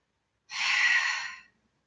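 A single deep, breathy exhale lasting about a second during a Pilates plank hold, close and fairly soft with no talk over it.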